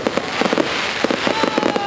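At the annual fireworks show in De Koog on Texel, a rapid series of sharp, crackling bursts and pops follows one another closely, loud and continuous.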